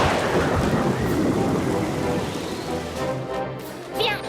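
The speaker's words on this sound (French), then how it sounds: "C'est juste un peu de pluie." Cartoon rainstorm in a cartoon scene: a loud rushing downpour with a rumbling roll of thunder that fades, then scattered splashes near the end.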